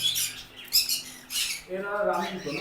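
Close, shrill squawks from green-cheeked conure parrots, several harsh bursts in quick succession with a brief pause in the middle.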